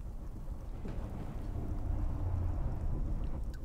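Rain in the video game The Cycle: Frontier pours as a dense, steady hiss with a low rumbling undertone, continuous and fairly loud throughout, with no voices.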